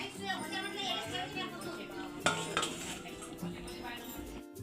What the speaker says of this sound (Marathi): चला तर याच्यावर झाकण ठेवून देते